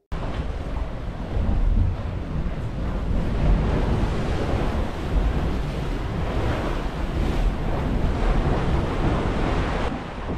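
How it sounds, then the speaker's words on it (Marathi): Waves surge onto a rocky Atlantic coastline at high tide near Cape Roca, Portugal, a steady roar of surf with heavy wind rumbling across the microphone throughout, no voices present. "आत्ता सध्या भरतीची वेळ आहे, त्याच्यामुळे समुद्राचं पाणी खूपच वर येत आहे आणि लाटाही खूप दिसत आहेत."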